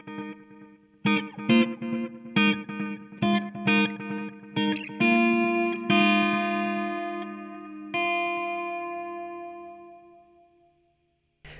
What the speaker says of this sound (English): What this does is take different taps of the delay and spreads them across a stereo field.